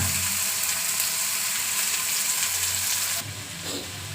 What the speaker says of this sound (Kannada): ಈರುಳ್ಳಿನೂ ಇದ್ದೀನಿ ಎರಡು ಸ್ವಲ್ಪ ಲೈಟಾಗಿ ಫ್ರೈ ಆಗೋ ಥರ ಮಾಡ್ಕೊಳ್ಳೋಣ